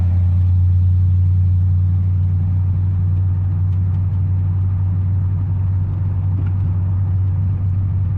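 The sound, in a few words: Ford F150 street truck doing a burnout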